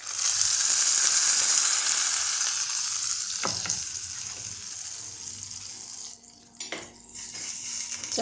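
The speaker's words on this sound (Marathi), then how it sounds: "या चटणीवरती आपण ही फोडणी घालणार आहोत" Hot tempering poured over a chutney for a Karnataka-style dosa meal bursts into a loud sizzle that slowly dies away, followed by a couple of sharp clatters from the utensil.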